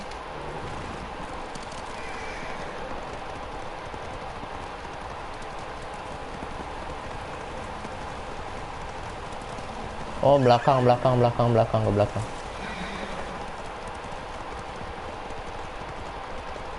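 Horse in Ghost of Tsushima gives a brief, shaky whinny over a steady run of hoofbeats and ambient game background, with a person talking quietly around it.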